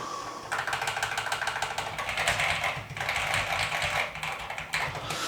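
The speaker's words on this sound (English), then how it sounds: "that's kind of how the keyboard sounds" Commodore 64 Ultimate keyboard being typed on, with rapid, continuous clicky keystrokes in quick bursts, close and clear, with a brief pause near the middle.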